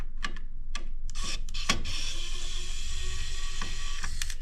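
A Kaiweets electric screwdriver backs screws out of a board with short, loud bursts of whirring and rasping, separated by brief pauses, then settles into a steady grinding rub.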